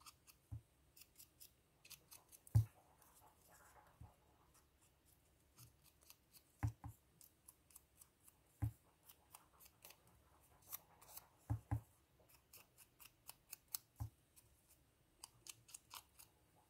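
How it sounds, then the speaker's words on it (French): Scissors cut small paper flowers for a junk journal craft in quiet, sparse snips and crisp clicks at an irregular pace, close and soft, with no voice over them. "C'est du boulot à découper ça, ces petites fleurs."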